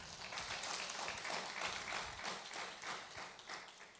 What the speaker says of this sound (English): Can we clap for the PI?